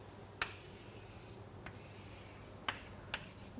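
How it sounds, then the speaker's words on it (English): A lecturer draws on a board with scattered sharp taps and scrapes of chalk or marker, a few distinct strokes spaced apart against a steady low room hum, with no talking. "so let us draw this properly."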